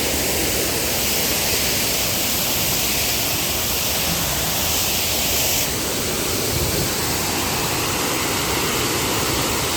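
A waterfall at a dam near Virar during monsoon rain pours down in a loud, continuous rushing roar that stays steady and close throughout, with no pauses.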